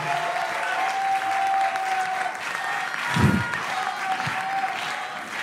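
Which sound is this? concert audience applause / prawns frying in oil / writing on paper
concert audience applause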